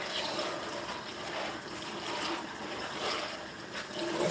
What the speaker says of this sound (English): rinse the bag.